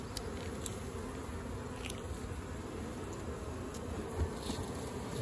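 Honey bees buzzing around a hive frame being shaken, a soft continuous drone with a few brief higher whines as insects pass close, quiet and without talk.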